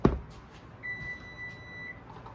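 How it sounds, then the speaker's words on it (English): A kitchen timer sounds a single sustained electronic beep for about a second while pumpkin whoopie pies are being made, faint and close, with soft kitchen rustling around it. "Sorry, my timer went off."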